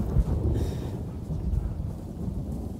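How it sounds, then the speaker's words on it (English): Low, rolling thunder rumbles in the video game Ghost of Tsushima, a steady deep roar mixed with wind and rain noise, with no talking. "Okay, Thunder."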